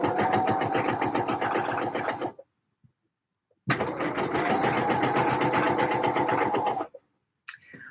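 A sewing machine stitches fabric in two long steady runs of rapid, even needle strokes, each lasting a few seconds with a short silent pause between, loud and close with no talking over it.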